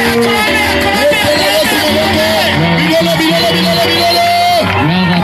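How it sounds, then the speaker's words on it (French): A church crowd at an evangelistic crusade cheers loudly and steadily, a dense roar of shouting voices and whoops that fills the whole stretch without a break. "je veux qu'on acclame"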